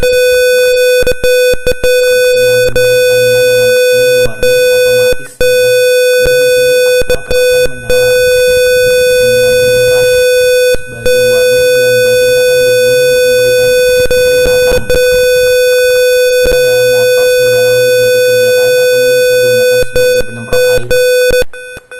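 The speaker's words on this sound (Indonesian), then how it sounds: "bersama dengan kondisi tadi buzzer akan menyala" A smoke and fire sensor project's buzzer sounds a loud, continuous high-pitched electronic tone, with brief breaks and a faint hum beneath.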